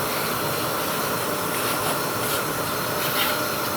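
A woodworking dust extractor runs with its filter shaker bouncing the filter, producing a steady dense hiss and rushing air noise with faint rattling pulses, heard close and without talk.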